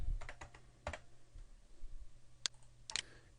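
Someone types on a computer keyboard, with a quick burst of close key clicks at the start and a few louder isolated taps near the end.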